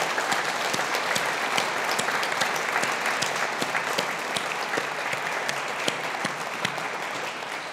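Graduation ceremony audience gives a sustained round of applause for family and friends, a dense, steady wash of many hands clapping throughout, full and even in level.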